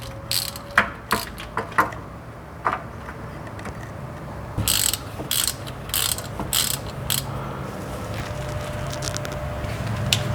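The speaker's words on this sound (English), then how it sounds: "get this fill plug out, and then we'll go ahead and remove the drain plug" A hand ratchet works loose the drain plug on a Nissan Pathfinder rear differential, with crisp clicking bursts in short rhythmic runs, close and clear, then fading into a quiet steady background.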